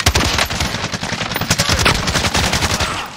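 Rapid automatic gunfire from an M91 in Call of Duty Warzone, a loud, close, continuous stream of shots rattling steadily for several seconds with no pauses.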